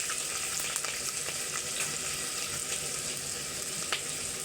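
Curry leaves and green chillies sizzle steadily in hot oil in a pan, a dense, continuous frying hiss with faint crackles and no talking.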